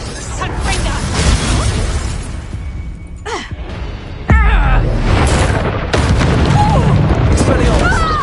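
A Confringo blasting spell in the Hogwarts Legacy video game sets off loud, booming explosions, with a sharp burst midway amid ongoing crackling and shattering combat effects under shouted voices.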